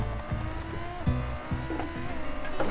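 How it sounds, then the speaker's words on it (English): A 1700-horsepower sports car in BeamNG.drive spins its tyres in a burnout at high speed, with a droning, fluctuating engine roar and tyre noise, moderately loud and uninterrupted by speech. "it's doing burnouts at 150 miles an hour"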